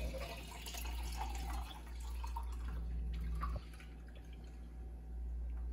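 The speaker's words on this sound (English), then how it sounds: "then I just kind of strain it over here into whatever jar you want to use to keep it" Freshly churned homemade butter liquid is strained into a jar, giving soft, irregular dripping and trickling close by over a low steady background hum, with no speech.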